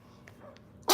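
A woman sneezes once, a single sharp, loud burst at the very end after a short stretch of quiet room noise indoors.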